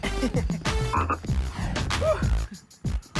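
A voice imitates a frog's ribbit croak in a children's hip hop cartoon, several loud, close croaking calls in a bouncy rhythm over a music backing.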